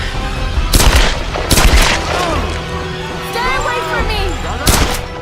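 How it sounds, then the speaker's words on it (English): Gunfire in the Tomb Raider reboot, loud close shots in a few sharp bursts spaced a second or so apart, with booming tails and clattering echoes between them. "the sound of the gunfire"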